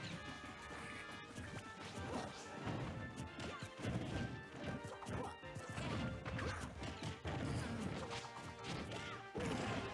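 A forward smash lands in a Super Smash Bros. 4 doubles semifinal match, one of several sharp cracking impacts amid busy game sound effects and music, with commentary voices faintly underneath.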